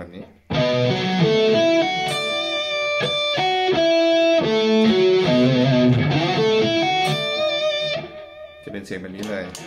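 Distorted electric guitar plays a fast pentatonic arpeggio pattern with many overlapping notes, loud and close, running for several seconds before stopping abruptly.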